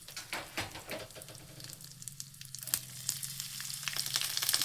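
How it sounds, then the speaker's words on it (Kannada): Dry fruits frying in ghee in a pan for a Ramadan festival sweet: a close, continuous sizzle with bubbly crackle, punctuated early by a few spoon taps and scrapes, growing slightly louder toward the end. "ನೋಡಿ ಇವಾಗ ನಾನು ಡ್ರೈ ಫ್ರೂಟೆಲ್ಲ ಹಾಕ್ಕೊಂಡು ಚೆನ್ನಾಗಿ ಫ್ರೈ ಮಾಡ್ಕೊಳ್ತೀನಿ"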